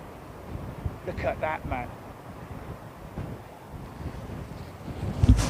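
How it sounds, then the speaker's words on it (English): Strong gusty wind buffets the microphone beside Heathrow Airport's runway 27R, rumbling low and unevenly, with someone speaking briefly over it and a louder gust near the end. "Flipping heck, flipping wind."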